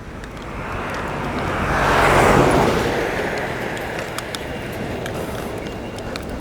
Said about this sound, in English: Just the odd car driving past.